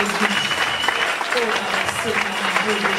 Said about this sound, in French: Est-ce qu'on peut acclamer pour les papas de l'église?